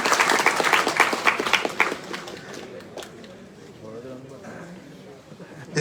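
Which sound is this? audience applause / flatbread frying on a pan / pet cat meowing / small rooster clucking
audience applause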